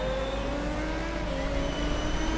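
A Formula 1 car driven by Kevin Magnussen in the F1 2017 game laps the Doha circuit in qualifying, its engine a steady, high-pitched whine that climbs and shifts with gear changes, heard alone and close.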